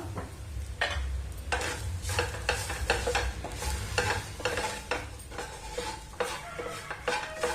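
Spinach and masala are stirred in a pan, with repeated rhythmic spoon scrapes and clinks against the metal over a low, continuous sizzle, close and fairly loud throughout.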